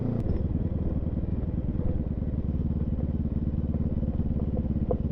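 A Benelli TRK 702 X adventure motorcycle being ridden gives a steady, close engine drone with an even throb and a little clatter, continuous throughout.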